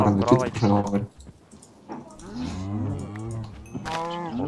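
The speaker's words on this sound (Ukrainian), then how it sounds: "Корова так мукає, класно." A cow in a video game moos in drawn-out, wavering calls, loud and close, with a brief pause and a few clicks between them.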